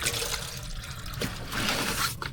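Water running into a pot for heating on a stove in a cold room, a steady near trickle and splash lasting a couple of seconds with a slight rise in volume toward the end.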